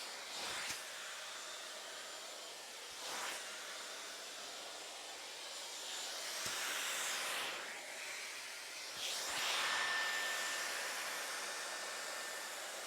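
A blow dryer brush runs close by while drying and lifting hair, a steady airy whoosh that swells and eases as it moves through the hair, with a few soft clicks and handling sounds in a quiet room.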